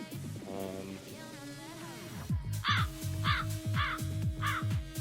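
A crow-caw sound effect plays in a talk-show setting: several loud, evenly spaced caws ring out close over a faint musical background.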